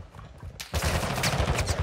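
Gunfire from Call of Duty Warzone DMZ bursts in as a dense, rapid volley of shots, loud and sustained after a brief quieter lead-in.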